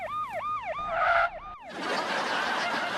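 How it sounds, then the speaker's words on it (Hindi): An ambulance siren wails in a residential colony: a loud, rapidly rising and falling tone for about a second and a half that cuts off abruptly, followed by a broad rushing noise. "ये एम्बुलेंस का आवाज यहाँ कैसे आ रहा है हमारी कॉलोनी में?"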